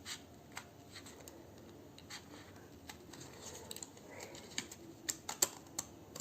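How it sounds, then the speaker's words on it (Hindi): Scissors snipping through a paper mask at close range: a quiet string of short, crisp cuts and rustles, irregular and growing a little busier toward the end, with no talk. "इसको और खोलने के लिए जो ऊपर का हिस्सा है उसको भी काट लेते हैं।"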